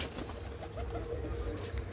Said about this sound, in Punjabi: ਲਓ ਜੀ ਆਹ ਕਬੂਤਰ ਹੈਗੇ ਸਾਰੇ